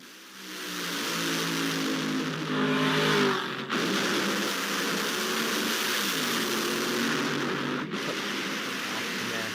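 A drag racing car accelerates hard down a quarter-mile track, its engine roaring steadily for several seconds at moderate distance, with a brief dip partway through and no speech over it.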